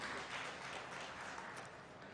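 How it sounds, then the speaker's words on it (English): An audience claps steadily at an award ceremony during the inauguration of an MSME conclave. The applause is a continuous, even patter, fairly faint and distant, with no voices over it. "A round of applause for them, please."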